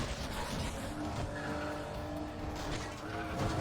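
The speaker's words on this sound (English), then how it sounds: "Oh, we got passed by a Supra." A Toyota Supra races past in Need for Speed: The Run, its engine roaring loudly and steadily over continuous road and tire noise, close and without letup.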